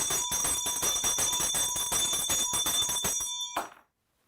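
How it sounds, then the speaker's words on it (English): A school bell rings continuously with a bright, rapid metallic clatter for about three and a half seconds, then cuts off abruptly into silence. "The school bell ring."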